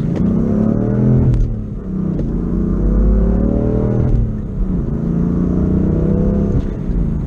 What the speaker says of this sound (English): So let's drive in the manual M3.